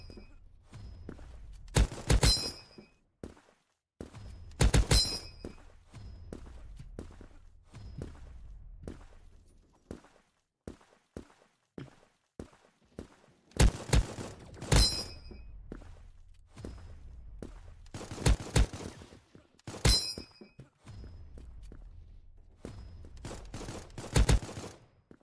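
Semi-automatic gunfire in the first-person shooter Krunker rings out in sharp, loud single shots and quick clusters, separated by quiet gaps with soft in-game footsteps between bursts.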